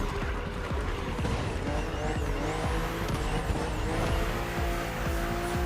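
Race cars roaring along a narrow, twisting track in The Crew Motorfest video game, with loud continuous engine drone, shifting revs and intermittent tire squeal, no talking.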